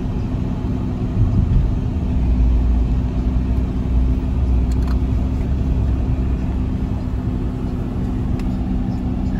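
A car drives along Miami's 836 Expressway, heard from inside as a steady loud low road and engine rumble with tyre roar that holds constant throughout, and no one speaks.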